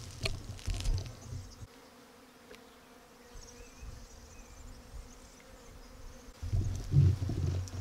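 Honey bees buzz steadily at a Flow Hive during a honey harvest, a close, continuous drone with louder swells at the start and end.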